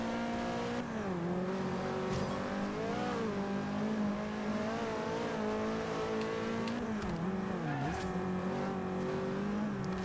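Race cars accelerating through corners in the video game Forza Horizon 2, a continuous engine drone with rising and dipping pitch as throttle shifts, steady and moderately loud throughout.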